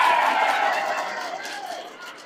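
A crowd applauds at a humorous religious lecture, a short burst of clapping that fades steadily over about two seconds.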